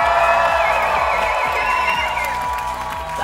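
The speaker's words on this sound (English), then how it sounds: "Five round of applause and a whole lot of noise." Wedding guests at a yacht club reception cheer, whoop and applaud in a loud, continuous crowd roar that stays steady throughout, with music or tonal sound riding above the noise.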